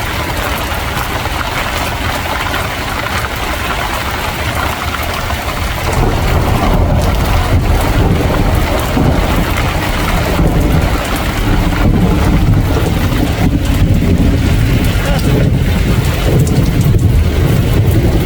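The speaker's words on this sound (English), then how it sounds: "I'm trying to get the sound of the thunder." Heavy rain pours steadily outdoors during an early rainy season in Alaska, with low rumbling thunder swelling beneath it partway through, a continuous loud wash with no speech.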